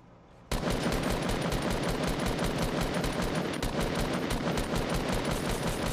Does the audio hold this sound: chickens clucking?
no